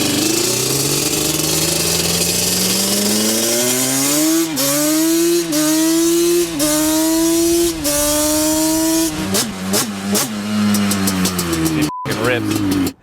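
A Yamaha Banshee ATV engine with a Toomey-style exhaust runs loud and close, its buzzing two-stroke note rising and dipping through several revs, a few sharp clicks near the end.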